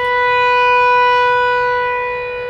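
A loud, steady wail of an outdoor tornado warning siren, a sustained tone that swells slightly and then begins to fade, with no voices.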